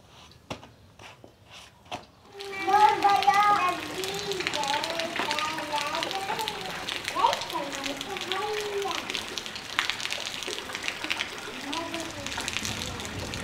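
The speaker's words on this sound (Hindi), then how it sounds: "अभी बारिश जो है ना वो फिर से स्टार्ट हो गई है, बहुत तेज़ बारिश हो गई है।" Heavy rain in a Punjab village pours down as a steady broadband wash after a quiet start, while people talk over it close by throughout.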